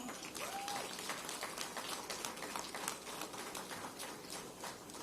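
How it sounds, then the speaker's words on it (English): Audience applause for Mayor Wu at a life sciences workforce announcement, a steady, fairly faint wash of many hands clapping, heard alone and sustained throughout. "she should get a round of applause for that"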